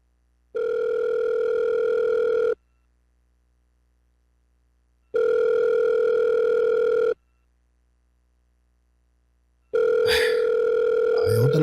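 Telephone dial tone on an outgoing call, three long steady tones about two seconds each separated by silent gaps, loud and close, with a brief clatter at the start of the last tone.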